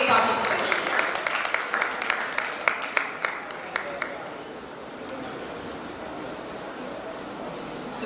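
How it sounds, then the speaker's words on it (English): Audience applause at a youth entrepreneurship event, a dense patter of clapping that is strongest early on, then fades into a softer crowd hum with voices murmuring underneath. "Give a big round of applause, audience."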